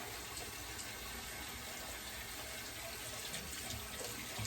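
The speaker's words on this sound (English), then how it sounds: "I'm going to do a cold water rinse just to extend that chill." Cold water runs steadily from a kitchen tap during a rinse, a constant broadband splashing hiss that holds at an even level throughout with no speech.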